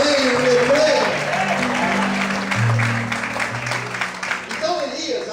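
A church congregation applauds during a sermon, sustained clapping mixed with sustained musical tones, voices and crowd murmur underneath.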